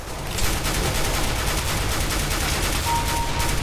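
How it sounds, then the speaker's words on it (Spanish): Rapid gunfire from Counter-Strike: Global Offensive, a dense burst of repeated shots hammering continuously for several seconds, loud and close with no talking. "Le he pegado 4 o 5 tiros, por lo menos."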